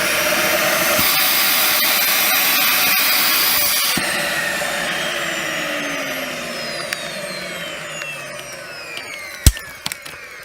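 A Dyson DC40 vacuum cleaner runs with its hose removed, a loud steady whine that slowly winds down, with a few sharp clicks and knocks near the end.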